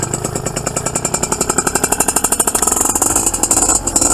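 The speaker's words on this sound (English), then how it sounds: "see if it revs up to full power. Like, rev it up." A paramotor engine worn on a pilot's back revs hard in rapid pulsing firing beats, loud and close, climbing toward full power with no talk over it.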